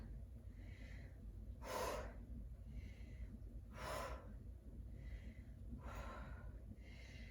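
Heavy breathing after an exercise workout, close and quiet, with three slow rhythmic deep inhales and exhales about two seconds apart over a soft background hiss.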